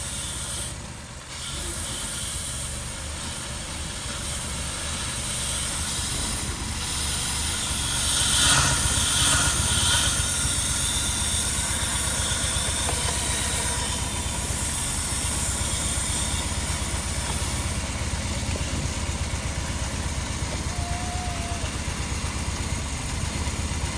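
A Jeep Wrangler JK engine idles steadily in limp mode with its throttle body disconnected and a sensor unplugged, a continuous close hum with hiss running throughout and no talk.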